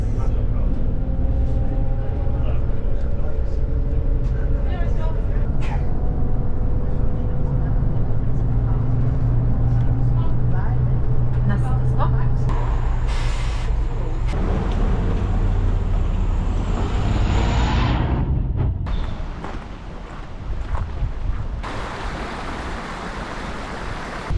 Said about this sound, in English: On the bus.